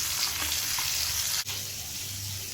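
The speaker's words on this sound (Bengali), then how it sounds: "একদম তরতাজা মাছের এই একটা জিনিস ভালো লাগে, যে মাছটা ভাজতে দিলে চুলার উপর দিলে কিন্তু এরকম বাঁকা বাঁকা হয়ে যায়" Fresh rohu fish sizzling in hot oil on a stove, a close, steady hiss of frying with a brief dip partway through, no voices.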